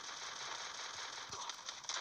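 Dual Vector submachine guns firing in a Counter-Strike match, a dense rapid crackle of shots running continuously at moderate level.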